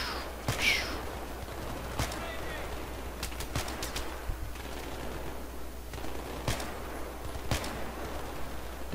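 Gunfire in the video game Battlefield 3: scattered sharp single shots crack at irregular intervals over a steady background rumble, moderately loud, with a player's voice faintly present.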